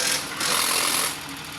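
A used Japan surplus vehicle, freshly pulled from a container van, runs at idle with a steady, close mechanical clatter and broadband hiss that swells slightly midway, with no talking.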